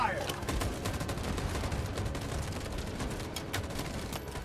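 Gunfire rattles in a Detroit: Become Human battle scene, a dense string of sharp shots and bursts over a rumbling backdrop, with a person talking over it.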